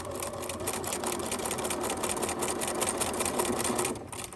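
Close, steady whirring of a sewing machine running continuously across a bag strap, one unbroken burst that stops near the end.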